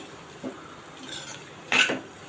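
Ground peanut powder being mixed into fasting potato bhaji with a spoon: a soft scrape, then a louder metallic clink and scrape of utensil against the pan, in a quiet room.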